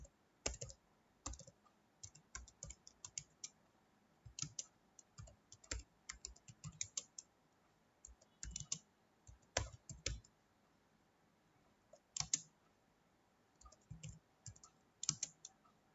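Keys clack on a computer keyboard as a program is typed into Notepad, irregular bursts of quick, close, crisp taps separated by short pauses in a quiet room.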